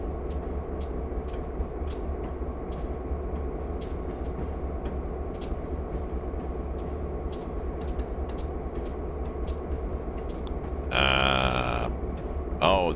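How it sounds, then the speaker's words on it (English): An AI-driven train rolls past in Train Simulator 2020 on the NS N-Line, a steady low rumble with rhythmic clicking of wheels over rail joints, ending with a loud horn blast. "there was a train that went by, wasn't there?"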